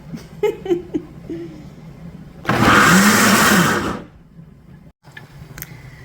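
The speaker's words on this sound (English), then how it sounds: "we're going to blend it up a little bit" A blender whirs loudly for about a second and a half blending peaches for jam, its steady roar standing out between quieter kitchen noises and brief clatter.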